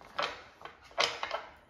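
Tarot cards are shuffled close by in a few quiet, brief riffling bursts separated by short pauses, with no talk.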